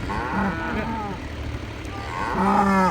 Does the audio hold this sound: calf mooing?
yes